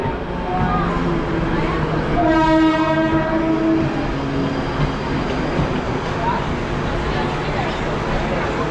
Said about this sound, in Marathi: चलो ट्रेन आलेली आहे आपली. Kolhapur Mumbai Mahalakshmi express is arriving shortly on platform number 12.